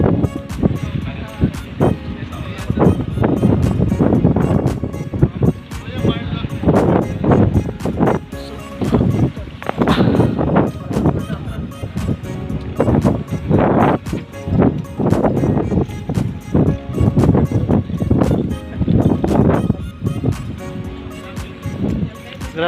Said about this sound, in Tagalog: Grabe, sobrang hangin dito.